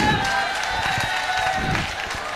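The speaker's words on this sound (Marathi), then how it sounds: "जोरदार टाळ्या." A crowd at an Adivasi Day cultural program gives loud, sustained applause and clapping, a dense wash of hands filling the whole moment.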